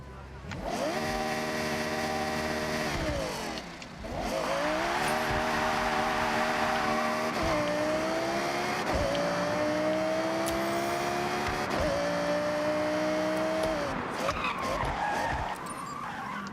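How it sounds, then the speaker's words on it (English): A V10 car engine in the Forza Horizon racing game revs loud and close over a long stretch, its sustained roar rising and falling through several held pitches, with a tire squeal near the end. "let me just switch to a car that I know has a V10 engine real quick."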